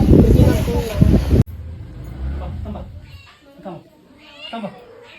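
A cat meows several times in short, rising calls after a loud burst of noise cuts off, with background sounds underneath.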